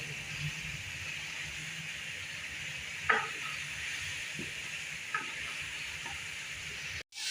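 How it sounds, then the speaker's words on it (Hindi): Garlic paste frying in ghee with onions gives a steady, quiet sizzle and hiss, with a couple of faint stirring clicks and scrapes against the pan. "अब इसके अंदर लहसुन का पेस्ट डालूंगी"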